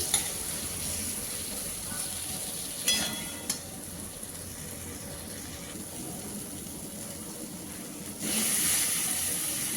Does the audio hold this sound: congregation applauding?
no